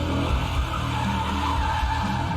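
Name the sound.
V8 sedan doing a burnout, tires squealing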